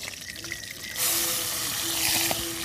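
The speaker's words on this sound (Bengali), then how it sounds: "জল পড়তেছে" Water suddenly begins pouring after about a second of quieter background, a steady close rush that continues to the end, near a kitchen where fish is being fried.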